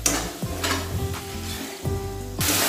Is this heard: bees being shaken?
no